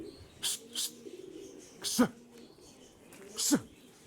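Pigeons coo softly in a few separate low, throaty bursts, with short rustles or wing flaps between them, heard fairly near in a quiet setting.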